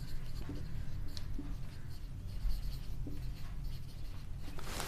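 A lecturer writes on a board, making a continuous scratchy stroke sound close to the microphone, with brief taps and pauses between strokes. No speech is heard over it.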